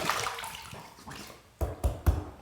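A Rockwell 6S adjustable safety razor rinsed under running water, a steady wash of splashing that ends in three sharp knocks or taps, near and loud with no talking.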